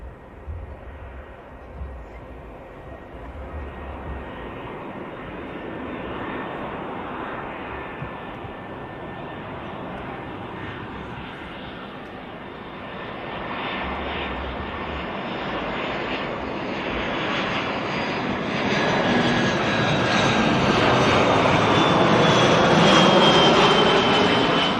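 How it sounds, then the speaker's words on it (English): A Lufthansa airliner arriving from Munich comes in to land, its jet engines a broad steady roar that swells louder and rises in pitch as it approaches, heard alone without talk. "Lufthansa next to land."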